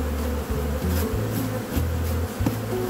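Honeybees buzzing at a beehive while it is being packed and reduced for overwintering, a loud close drone of many bees with shifting pitches and individual bees passing near, no talking.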